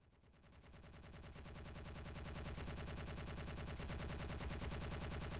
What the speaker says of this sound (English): What is that firing at?